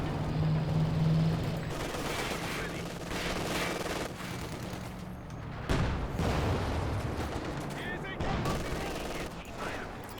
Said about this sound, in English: their artillery is flying for the Allies and they are ripping into these Axis squads